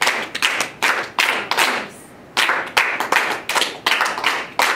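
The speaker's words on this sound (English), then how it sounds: "Clap it so I can hear a little better." Hand clapping in a music lesson, a run of sharp individual claps in a spoken-rhythm pattern with a short pause midway, close and loud, with no talking over it.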